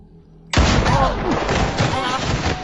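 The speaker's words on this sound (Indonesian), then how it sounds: "sebuah tembakan Joe dari arah tak terduga membuat keduanya terhempas ke lereng bukit" A gunshot in a film bursts in suddenly and loudly after a quiet start, followed by a dense, rumbling blast that carries on to the end.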